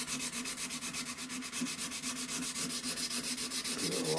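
A wooden flintlock pistol stock is sanded by hand with 220 grit sandpaper. The close, steady strokes come in a fast, even rhythm with no voices.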